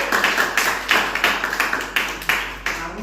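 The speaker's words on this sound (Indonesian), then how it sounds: "tepuk tangan dong" Students in a classroom clap their hands together in a rhythmic group beat, with roughly nine sharp, evenly spaced bursts over three seconds and no talking.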